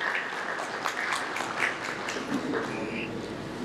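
Applause from the audience at a minority-party and Christian leadership conference, a steady dense wash of many hands clapping at moderate level throughout, with no voices on top.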